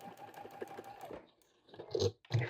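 A sewing machine stitches short seams across fabric for a roll-up first aid kit, with a quick rapid run of needle taps followed by brief pauses and short louder bursts close by.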